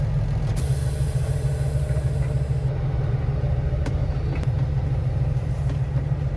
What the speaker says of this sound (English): Now this semi is just pulling out.